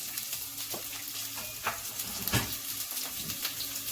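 Half an onion fries in a little oil in a saute pan, producing a steady close sizzle with occasional crackles and faint scrapes and no talking.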